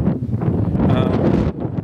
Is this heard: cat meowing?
no